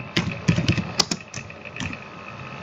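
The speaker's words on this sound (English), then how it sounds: "Now we have to type our name" An app name being typed on a computer keyboard, a scattered string of close, light key taps with uneven gaps, fading into quiet room tone.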